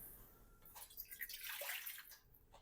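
Water pours steadily into a container of sourdough starter nearby, a bright splashing rush that swells and then tapers off.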